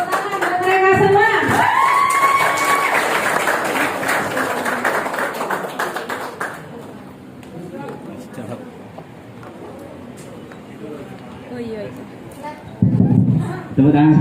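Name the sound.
audience clapping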